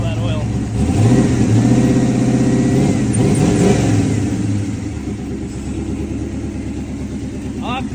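A turbocharged 1984 Chevrolet S10 engine with an intermittent misfire runs close by, rising into a loud rev then settling to a rough, uneven idle, with a voice talking over it.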